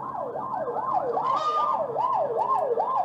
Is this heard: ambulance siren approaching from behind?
yes